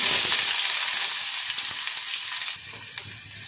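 Onion and cumin seeds fry in hot oil in a pan for a green chicken varuval, a loud, dense hiss and crackle that eases slightly toward the end with a few small clicks.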